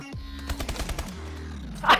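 A burst of rapid gunfire in a video game shooter, a short run of sharp, close shots fading out, followed by a brief higher electronic blip.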